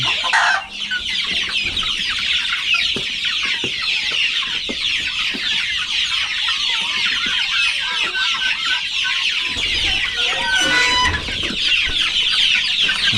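A large flock of chickens clucks continuously in a dense, overlapping chorus, near and loud, with an occasional louder squawk standing out.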